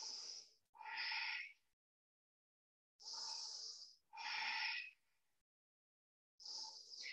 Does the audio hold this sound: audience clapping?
no